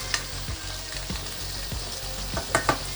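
Shrimp sizzling in a hot pan with ginger and garlic during a lo mein stir-fry, a steady close crackle with a few soft stirring scrapes and clinks as the food is moved around.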